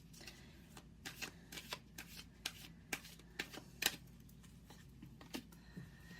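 Angel Answers oracle cards being shuffled by hand, a continuous papery riffle with repeated sharp snapping accents, close and fairly quiet, with no talking.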